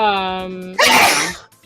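A person sneezes once, a sharp, loud burst that cuts off a sustained tonal sound just before it and then fades quickly.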